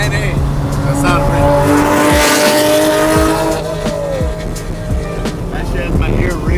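A naturally aspirated sports car engine revs hard and loud, its pitch climbing and falling through sustained high-rpm pulls, close by and continuous.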